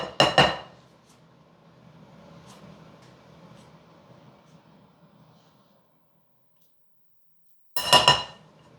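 Spatula blending lard into flour in a bowl, with loud scraping clatters at the start and again near the end around quieter soft mixing and rubbing sounds, close by.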